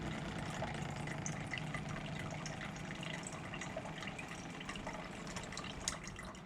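A reverse-osmosis water filter's booster pump runs with water flowing through the system, giving a steady, continuous hiss and rush of moderate loudness with no pauses.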